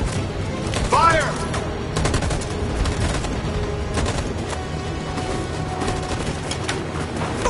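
Dense, continuous gunfire from a shootout in Detroit: Become Human, with rapid overlapping bursts filling the whole stretch and voices audible beneath.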